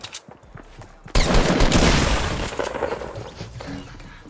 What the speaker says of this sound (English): you got a shotgun, turn around and shoot him